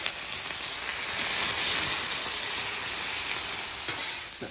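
Onion and bell pepper sizzle steadily in avocado oil in a hot pan, a loud continuous frying hiss that swells slightly midway, with no talking.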